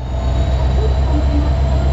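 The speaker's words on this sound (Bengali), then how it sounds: "ট্রেনটা এখন এসে নিউ জলপাইগুড়িতে দাঁড়ালো" Train pulling in and halting at New Jalpaiguri station, with a loud, steady low rumble of rail cars and faint squealing wheels, no voices.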